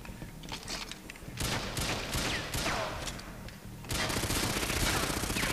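Rapid bursts of gunfire from GoldenEye 007 on the Wii, loud and close, with dense fusillades from about 1.4 s and a heavier continuous barrage from about 4 s onward, no voices.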